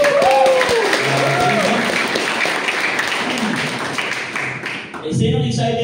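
A live audience at a network-marketing event applauds steadily, with dense clapping filling the whole span while an amplified voice carries over it. A louder burst of cheering and voices comes near the end.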